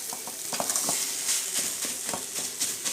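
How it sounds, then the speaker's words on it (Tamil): Soya chunks tossed with salt in a hot pan, a steady sizzle of frying broken by repeated scraping stirs of the spoon at a loose, uneven rhythm, close and alone with no voices. "நல்லா கிளறி விட்டுட்டே இருங்க"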